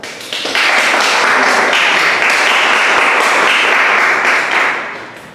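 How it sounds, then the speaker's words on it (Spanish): An audience at a talk on family violence in Peru claps loudly, a dense burst of applause that swells, holds for several seconds, then fades out. "lo recibimos también con un fuerte aplauso."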